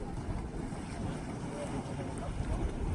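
A deep, continuous low rumble from a mud volcano at Yellowstone National Park during a storm, with rushing wind buffeting the microphone, steady and close throughout with no voices.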